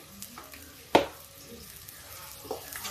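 Turmeric and spices sizzle in a pan while lauki dal is being cooked, a steady low frying hiss with a sharp clatter about a third of the way in and a softer stir near the end.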